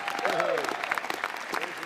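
Clapping from lawmakers in the House chamber, brief close applause with distinct individual claps, with voices mixed in.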